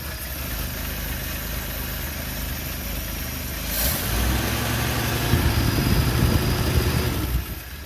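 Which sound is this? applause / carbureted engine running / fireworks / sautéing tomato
carbureted engine running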